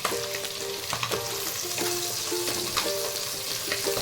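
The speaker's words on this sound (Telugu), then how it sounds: "ఒక ఫ్రై చేయండి." Curry leaves and masala fry for a Godavari-style Andhra fish curry in a close, loud, continuous sizzle, with quick stirring scrapes recurring every second or so and no talking.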